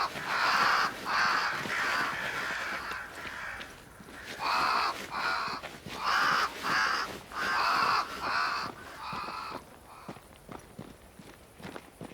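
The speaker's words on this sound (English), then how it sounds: "Crows. They flock to that great tree up there." Crows in the video game Banishers: Ghosts of New Eden caw in repeated harsh bursts, loud and close, over soft footstep-like crunching that continues alone after the calls stop.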